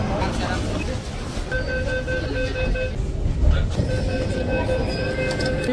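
A crowded Delhi metro train on the Yellow Line pulling into the station, a steady close rumble of wheels and carriages with high squeals, under a busy murmur of passengers.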